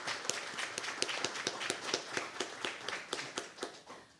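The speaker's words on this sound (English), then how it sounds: "give a resounding applause to the country of Antigua and Barbuda for this" An audience at a cybersecurity and fraud prevention forum breaks into dense, steady clapping, many hands beating in a fast, even patter that fills the room.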